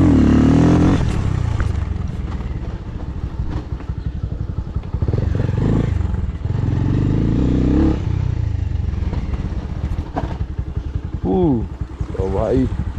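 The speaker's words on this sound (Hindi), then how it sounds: "पहले यहाँ पे एक व्हीली मारते हैं" A motorcycle revs hard while its rider pulls a wheelie on an outdoor track, the engine roaring loud and steady throughout with rising and falling pitch near the end, and someone talks over it.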